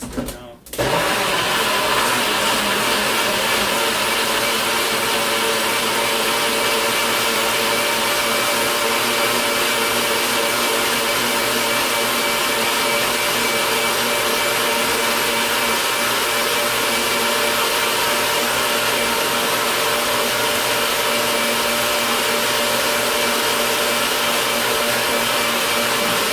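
Blender roaring at full speed as apples are blitzed into a puree for apple juice kefir, a loud unbroken whir lasting the whole stretch after a brief start-up.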